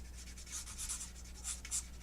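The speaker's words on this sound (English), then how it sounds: "So I'm using a Flory weather sander to kind of weather in this coat that I did the other day on it." A Flory weathering sander rubbed across a painted scale model, giving soft, faint scratchy strokes in a short quiet run with no talking.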